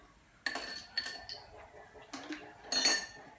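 Ice cubes clink against glass and metal as they drop into a serving of badam milk, several sharp knocks at close range with no talk.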